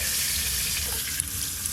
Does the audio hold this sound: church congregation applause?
no